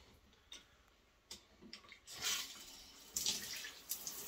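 Shower water running after a hydrofor pump was fixed to restore water pressure, a hissing spray that swells louder partway through with faint clicks and taps.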